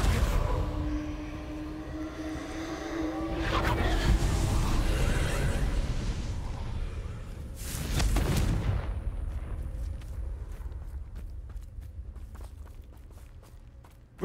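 Confringo fire-blast spells explode in the video game Hogwarts Legacy, giving a couple of loud whooshing bursts with rumbling blasts that fade into softer crackles and footstep-like clicks.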